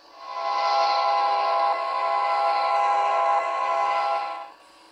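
A toy express train with five little carriages runs steadily, giving off a sustained whistling, horn-like tone that swells and holds for several seconds before cutting off.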